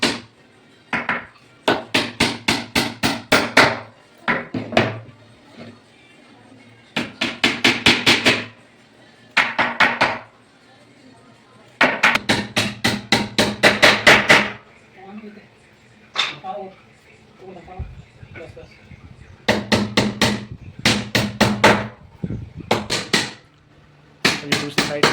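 Plywood backing is hammered onto a wooden bed frame in rapid bursts of sharp, ringing blows, several volleys of quick strikes separated by short pauses, loud and close.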